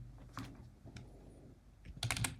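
Fingers tap a computer keyboard while drawing in Excalidraw in Obsidian: scattered soft, close key clicks, then a quicker burst of louder keystrokes near the end.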